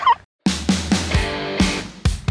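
A turkey gobbling up close, a rapid series of loud warbling gobbles repeated several times with short pauses between.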